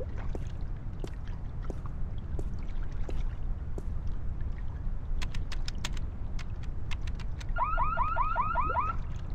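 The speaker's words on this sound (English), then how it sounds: "I'm gonna touch the alarm." An alarm goes off in The Longest Journey video game, a rapid series of repeated electronic warbling beeps near the end, loud over steady background noise and clicks.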